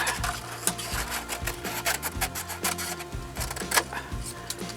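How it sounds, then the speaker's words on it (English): Cutting about half an inch off a speargun part, a close, steady rasping saw stroke repeated in a quick back-and-forth rhythm with sharp scraping peaks throughout. "I'm going to cut about 1/2 inch off of that"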